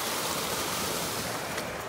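Flood water rushing steadily around a retaining wall at a campground, a dense continuous roar of flowing water close by, with no talk over it.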